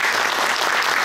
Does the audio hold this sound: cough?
no